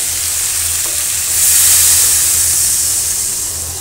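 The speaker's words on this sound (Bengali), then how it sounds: "এখন ঝোলের পানি দিয়ে দিব।" Water poured into a pan of sizzling eggplant and bata fish curry: a steady, close frying hiss that swells into a louder, brighter burst of steam partway through, then eases slightly.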